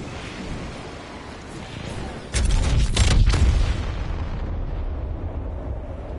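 A gravity cannon fires in a video game: a sudden heavy boom bursts in at once and settles into a sustained low rumbling roar that lingers and slowly fades.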